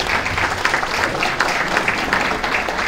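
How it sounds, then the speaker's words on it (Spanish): A room full of people applauds, a thick and steady wash of many hands clapping at once, fairly loud and close, without talk breaking through. "Unas palmas para él, por favor"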